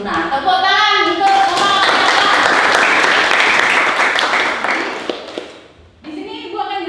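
Children in a classroom clap together in a loud, dense burst that rises after a teacher's voice and fades out before she resumes talking.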